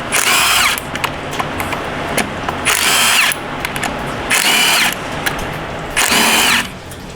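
Four loud, close bursts of an impact-style power tool, each about half a second long, break loose bolts on a Ford 10R80 ten-speed transmission from a 2019 Mustang. Steady workshop noise fills the gaps between bursts.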